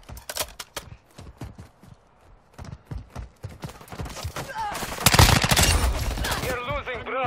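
Rapid gunfire rattles through a video game battle in dense clusters of sharp shots, building into a loud, continuous barrage near the end.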